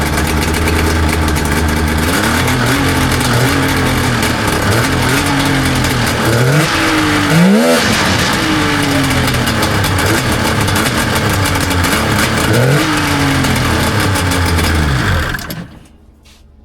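A vintage Polaris RXL triple-cylinder snowmobile engine runs loud and close, a buzzing two-stroke idle with several revving swells, before cutting off abruptly at the end.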